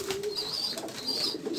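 Pigeons cooing softly at a rooftop loft, low throaty coos repeating under faint background noise and thin high chirps.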